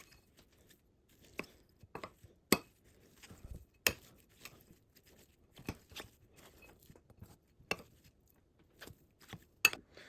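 Butter mixed into plant-based steak ingredients in a bowl: soft, close, irregular tapping and squishing clicks scattered through, quiet overall with no voice.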